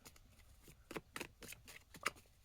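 A deck of cards being shuffled, with several quick riffling bursts of crisp papery flutter spread over a couple of seconds, close and fairly quiet, with no talking.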